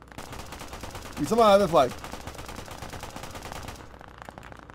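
Gunfire in Operation: Harsh Doorstop on Omaha beach, scattered shots crackling throughout with a louder burst near the middle, under someone speaking briefly.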